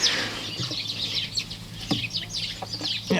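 Chickens in a backyard pen give soft clucks and short calls over a low outdoor hum, with no talking.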